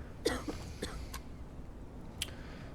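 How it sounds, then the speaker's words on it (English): A character in the video game Quarantine Zone coughs, a few short, sharp bursts spaced apart against a faint, quiet background. "she does have a cough"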